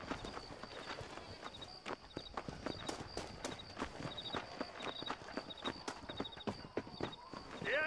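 Hooves clip-clop in an even, repeated walking rhythm from a horse in the Red Dead Redemption video game on Xbox One X, clear and close, with faint voices underneath.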